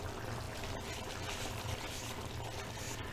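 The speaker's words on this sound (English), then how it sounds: "So I put water in and I put coconut milk powder in here." Water is poured into a container to mix coconut milk powder while cooking ayam masak merah at home, a steady, close splashing pour lasting the whole moment with no talk over it.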